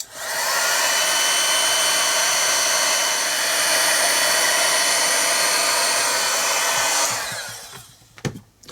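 Steady loud whoosh of a heat tool blowing on an art journal page for about seven seconds, then cutting off, followed by a few soft rustles and clicks.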